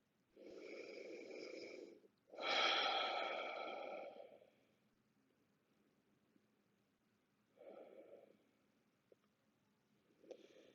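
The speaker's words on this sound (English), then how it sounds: "Take a few breaths." Slow, deep breaths while resting face down in a yoga pose, forehead on stacked hands; two long close breaths, a pause, then two shorter ones, soft and alone in a quiet room.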